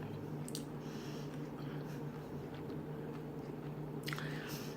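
Close, wet chewing of asparagus and greasy bacon, with a couple of soft crunches over a low steady hum.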